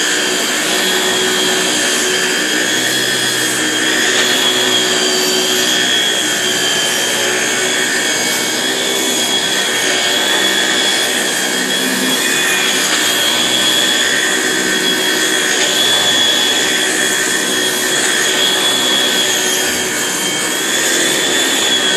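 Kenmore vacuum cleaner with a Power-Mate 3.2 power nozzle from 1976 running alone, a loud, steady high-pitched whine with a constant motor hum throughout.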